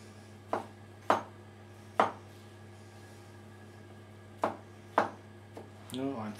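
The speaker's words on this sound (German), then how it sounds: "Zuerst schneide ich die Austernpilze." A knife slicing oyster mushrooms into strips strikes a cutting board in a few sharp, irregular chops over a steady low hum, followed by a brief bit of speech.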